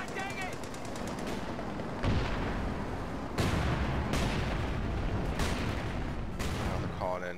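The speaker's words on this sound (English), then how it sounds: "Now they're calling in light artillery on us." Light artillery and gunfire rumble through a battle in Company of Heroes 2, dense continuous booms and bursts of shots that keep swelling, with a few sharp louder impacts landing every second or two.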